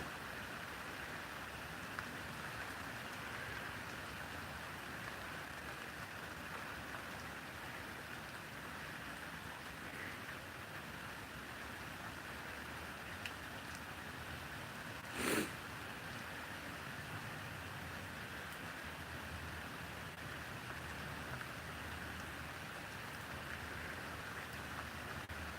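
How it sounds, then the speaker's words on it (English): Rain falling outdoors, a faint, steady hiss of drops on surfaces throughout, with one brief sharper knock partway through. "I don't know if you guys can see the rain from here, but you'll probably be able to hear it."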